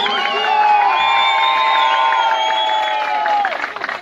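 A village wedding crowd in Arıönü claps and cheers steadily, with whoops and shrill voices rising over continuous applause for about four seconds before it starts to thin out.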